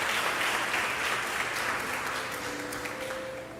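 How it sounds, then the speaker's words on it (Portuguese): A church congregation applauds at an evening service, a broad, sustained wash of many hands clapping that fills the room and tapers off slightly at the close. "Se você crê nisso, aplauda Ele nessa noite."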